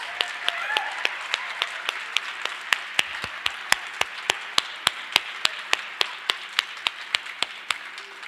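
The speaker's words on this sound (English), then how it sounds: "Let's all give them a round of applause" At a Colorado cannabis legalization anniversary event, an audience gives a round of applause, a steady wash of clapping punctuated by loud, evenly spaced claps close by that keep a regular beat.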